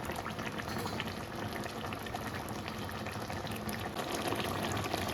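A pot of curry with potatoes, pointed gourd and prawns boiling on a kitchen stove, a soft continuous bubbling simmer, quiet and unbroken, with no talk.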